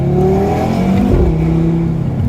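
Toyota Supra MK5 driving on a mountain road, its engine note loud and close with rising and falling rev tones as it accelerates and shifts, no talking over it.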